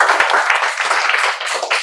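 A group of students in a spoken English classroom clap together, a dense, brisk burst of applause lasting about two seconds, close and loud, with no talking over it.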